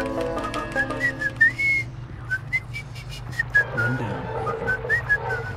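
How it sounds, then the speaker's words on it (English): A person whistles a cheerful, merry tune in short rising and falling phrases while playing Bendy VR, close and clear over a low background hum from the game. "Sing a happy song, whistle a merrily tune"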